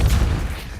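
A Depulso force spell from the Hogwarts Legacy video game hits with a loud, heavy thump and burst, a short boom with low rumble that decays quickly within under a second.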